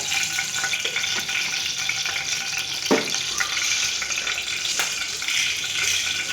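Mustard seeds with chana dal and urad dal splutter in hot oil, a close, continuous sizzle broken by a few sharp pops.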